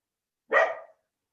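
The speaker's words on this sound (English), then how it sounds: "my dog would bark while I'm here" Single short bark from a dog indoors, moderately close and alone against silence.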